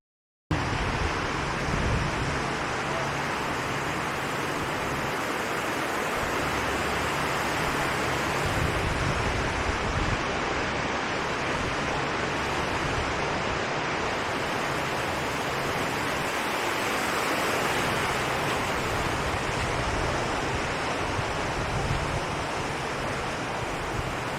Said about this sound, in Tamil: இந்த ரிவரில் தண்ணி எப்படி சூப்பராக போயிட்டுருக்குன்னு பாருங்களேன்.